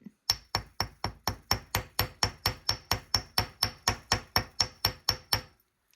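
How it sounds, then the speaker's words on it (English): Small piece of 20 gauge wire being flattened into an eighth note shape with a hammer: about seventeen sharp, evenly spaced metallic strikes at a steady rhythm, close and loud, with no talking. "Let's just hammer this out a little bit."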